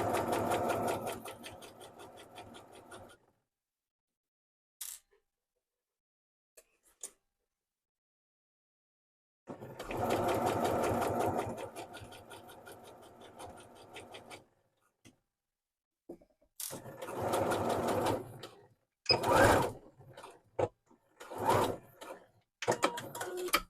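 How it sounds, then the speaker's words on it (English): A sewing machine stitching pocket bag pieces together along an existing stitch line, running in a long steady burst, pausing in near silence, running again, then ending in short stop-start bursts, close and loud. "going to stitch them together along this line of stitching"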